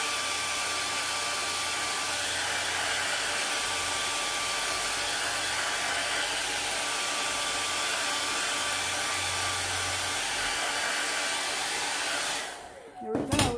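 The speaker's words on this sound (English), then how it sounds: "I'm going to just stick the blow dryer on it for probably about 15 seconds." A blow dryer blasts steadily at close range to dry blue paint on a wooden flag, a constant loud whoosh lasting about twelve seconds before it switches off.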